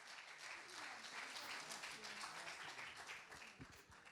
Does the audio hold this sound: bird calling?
no